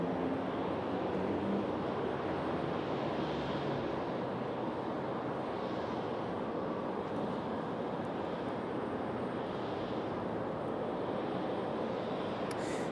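An Embraer E190 airliner arriving at Raleigh-Durham airport, a steady broad roar of jet engines and rushing air that holds throughout, with wind buffeting the microphone and no one talking.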